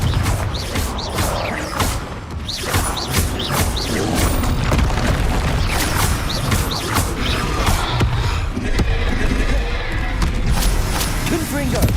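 Explosive Confringo spell blasts in the game Hogwarts Legacy, a busy run of booming impacts and crashes layered over battle noise, with a voice speaking through much of it.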